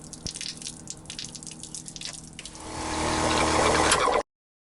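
Running water from a van's sink drain, steady and moderately close, with drips early on that build into a fuller rushing flow before it cuts off abruptly.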